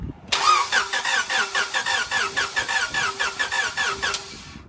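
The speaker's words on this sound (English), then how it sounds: "we're going to crank the car just to get oil pressure building" A Honda Integra engine with its ECU unplugged cranks steadily for about four seconds, the starter churning in an even rhythmic pulse without catching, loud and close.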